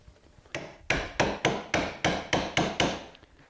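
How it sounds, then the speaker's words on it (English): A mallet drives a carving tool into a wooden spoon, a series of about ten sharp, evenly spaced woody knocks, close and clear, with no talking. "the mallet is the way to go"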